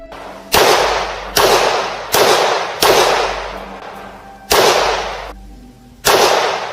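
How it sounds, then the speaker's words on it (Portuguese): A revolver is fired until empty: seven loud, sharp gunshots ring out roughly once a second, each followed by a short decaying echo, with a longer pause before the last three. "disparei contra aquela criatura até a arma ficar dando estalos de tambor vazio"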